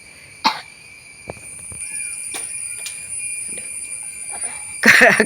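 Coughing bursts from a person bringing up phlegm after drinking a spicy home remedy for cold and cough: a short cough near the start, fainter throat sounds, then a loud harsh cough cluster at the end, in a quiet room.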